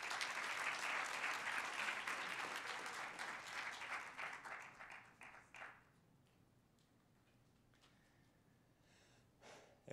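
Loud applause from an audience at a New York City Council District 5 public event, dense clapping that fades out after about six seconds, leaving a quiet room with a few stray sounds.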